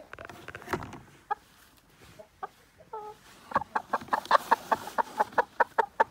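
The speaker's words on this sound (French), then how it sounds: "Regardez, ça piaille le coq et les deux poules au fond, comme d'habitude." A rooster and two red hens cluck and squawk, starting with scattered calls and building into a quick run of rhythmic, fairly close clucks near the end, with no talk over them.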